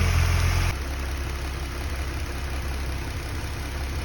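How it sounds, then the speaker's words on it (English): A Ford Mustang S197 engine idles smoothly after a new battery is fitted, a steady, even rumble heard close by with a brief louder surge at the start. "Engine is purring away nicely."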